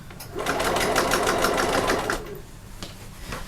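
A sewing machine stitches fabric along a 1/4 inch seam, its rapid needle rattle running steadily for about two seconds up close before stopping, leaving quiet handling noises afterward.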